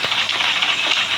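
A train in the video game Granny 3 sends out a loud, steady mechanical hiss and engine drone, like steam escaping, continuous and close for a brief moment with no voices.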